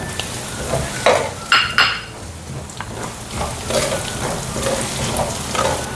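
Garlic frying in a pan for palabok, a steady close sizzle with a few sharp clatters of a utensil stirring against the pan and no voices.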